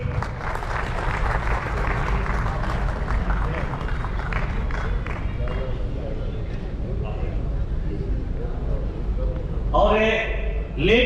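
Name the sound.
audience applause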